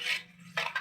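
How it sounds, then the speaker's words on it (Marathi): Short scraping strokes of a spoon stirring turmeric into raw mango pickle in a pot, three brief close scrapes with quiet gaps and no talking. "हळद घेतलेली आहे, ती त्याच्यात आपण आता मिक्स करून घेऊया."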